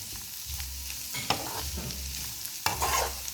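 Snake gourd pieces coated in masala are stir-fried in a pan, with a steady sizzle under repeated scraping and stirring strokes. Sharper clanks of the spatula land at irregular intervals.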